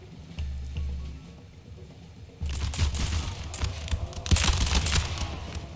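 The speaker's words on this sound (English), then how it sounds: "good volley by the Danish" Musket volleys from Danish line infantry in the video game Empire: Total War: a quieter stretch of battle ambience, then a dense, loud crackling fusillade of many overlapping shots that swells again near the end.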